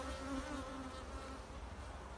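Honeybees drone in a steady, low buzz close to an open hive frame during a mite check, faint and continuous with no voices.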